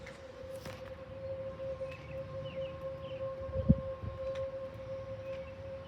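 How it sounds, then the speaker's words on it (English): Distant civil defense sirens wail during a tornado warning, a steady sustained tone holding through the whole stretch, with faint rustling and a brief bump of nearby handling noise. "That is South Beloit sirens, not ours."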